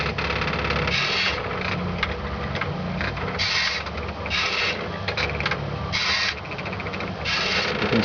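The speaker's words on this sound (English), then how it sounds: "You can see the servo motor picking up the pen mechanism as it draws the letters" A homemade pen plotter's servo motor lifts and drops the pen mechanism between letters, heard as repeated short whirring bursts over a steady, close mechanical drone.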